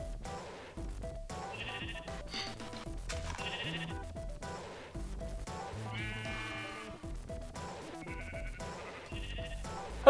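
Several wavering sheep bleats from Minecraft repeat one after another across the clip. They sit over a busy, layered game soundtrack and come at a moderate, fairly even level.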